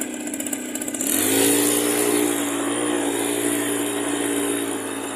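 A Yamaha scooter's engine revs up and then holds a steady, buzzing drone as it rides along ruts, loud and close, with no talking over it.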